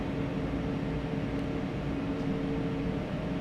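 Synaptic A220 airliner jet engines in a flight simulator game give off a loud, continuous broadband roar with steady humming whine tones, unbroken and without talk.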